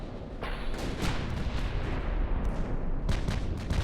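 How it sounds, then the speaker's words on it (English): Naval artillery booms from battleships in the Ultimate Admiral: Dreadnoughts video game, a dense, rumbling barrage of loud overlapping gunfire with sharper individual blasts cutting through near the start and end. "Battleship Renown is taking some fire."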